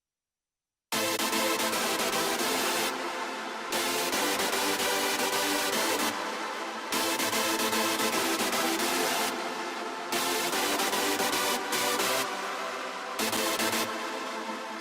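Loud hardstyle synth lead from FL Studio with resonant EQ boosts, starting after a short silence and then playing continuously in chopped rhythmic phrases with brief high-end dropouts between them.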